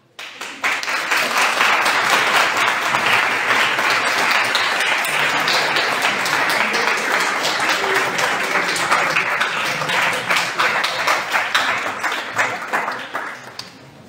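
Conference audience applauding the speakers, sustained dense clapping that builds quickly and holds steady before tapering off near the end.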